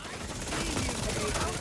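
Video game gunfire crackles in a dense, continuous stream of overlapping shots and bursts, loud and steady across the whole stretch, with no clear talk.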